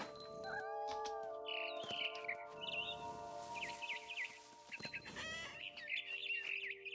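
A frightened bird in What Remains of Edith Finch gives repeated agitated clucks and squawks, fairly close, over a steady background game tone.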